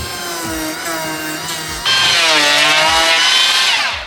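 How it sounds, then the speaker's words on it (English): A power planer shaves wooden blocking along shed rafters, its loud whine steady and close, rising into a harsher cut partway through with no talking. "I just need to plane the blocking along one side"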